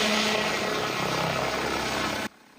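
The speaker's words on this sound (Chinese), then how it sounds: "无人机飞机在海岸升空" An army tactical drone takes off over the coast, a loud steady whirring engine roar sustained close by before cutting off abruptly near the end.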